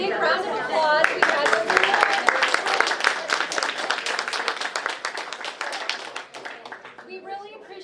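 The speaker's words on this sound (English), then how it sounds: "I'd like everyone to give our pitch winners a big round of applause" Pitch-competition winners get audience applause, a lively burst of clapping that swells and then thins, with cheers and voices mixed in and a speaker's voice emerging as it fades.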